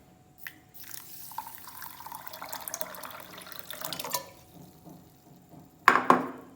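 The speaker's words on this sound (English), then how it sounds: "We will add water." Water poured into a bowl holding a cup of brown sugar for a cake syrup: a short, close splashing pour near the end, after a stretch of quieter kitchen handling sounds.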